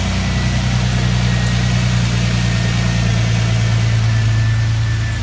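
A 2000 Lincoln LS engine runs steadily close by, its drone easing slightly lower partway through as it settles toward idle.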